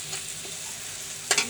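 Dried fish frying with onion and garlic in a pan, a soft continuous sizzle with a brief sharp crackle and stir near the end.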